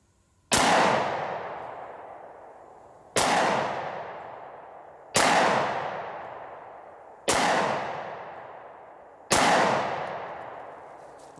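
Five pistol shots of 180 gr FMJ ammunition in 10mm Auto or .40 S&W, each a sharp loud crack with a long echoing tail, fired at a slow, steady pace about two seconds apart.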